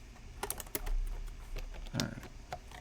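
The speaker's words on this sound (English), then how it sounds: "I'm going to go ahead and throw the caps on just to do a typing test" Keystrokes on a custom mechanical keyboard with keycaps, built from Densus and KLC parts in an Ingot66 FC660c-style case, typed during a typing test: sparse, close-up clacks with uneven rhythm and a few louder strikes.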